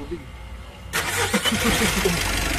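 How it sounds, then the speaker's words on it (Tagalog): A Mitsubishi L300 Euro4 diesel engine, just back from radiator service for an overheating fault, cranks briefly and catches, then settles into a rough, throbbing idle close by, with a person talking over the running engine. "pwede ko nang pa-start itong makina."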